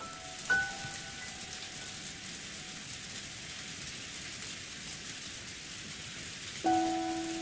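Steady rain hisses through the visual novel game Umineko When They Cry, a constant even downpour with brief tonal chimes at the start and end and no voices.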